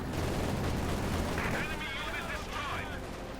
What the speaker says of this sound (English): In this case the Panzer IV was able to shoot it down.